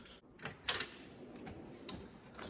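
A drawer slides open on a mechanic's tool box, with faint metallic clicks and rattles of tools shifting inside, quiet and close.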